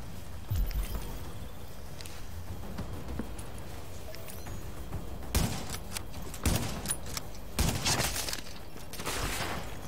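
Gunshots in The Division video game crack out in scattered bursts at moderate distance, sharper clusters arriving in the second half with no talking.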